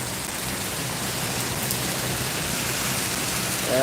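A downpour in Singapore roars as an unbroken wash of falling water, close and loud, holding steady from start to finish without speech.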